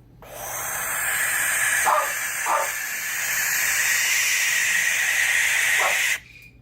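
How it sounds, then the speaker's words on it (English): Barn owl giving a long, harsh, breathy hiss that holds steady for about six seconds before cutting off abruptly, loud and close with faint background noise. "Number 3, barn owl."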